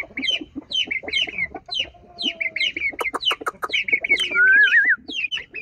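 Backyard chickens cluck loudly and close by in quick repeated bursts, with a rising squawk near the end and other birds chirping faintly alongside.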